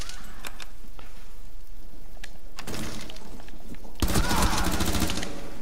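Gunshots in the video game Rainbow Six Siege: sparse sharp cracks early on, then two loud close bursts of fire, the second one heavier and sustained toward the end.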